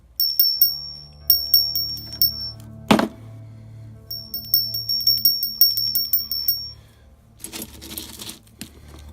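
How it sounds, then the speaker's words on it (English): A handmade bell shaped from an Ike dollar coin rings in bright, clear strikes, two quick series of ringing tones with a heavy thunk between them, followed by some rustling handling noise. "My first Ike bell."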